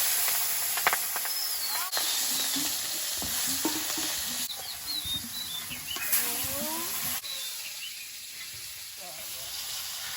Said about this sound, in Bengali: কড়াইতে তেল দিয়ে দেব মাছগুলো একে একে দিয়ে দেবো